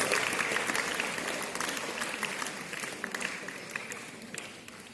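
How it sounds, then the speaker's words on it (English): Audience applause at a school UN mock General Assembly, steady dense clapping from a hall full of students that holds loud throughout and tapers slightly toward the end. "So give her a big round of applause."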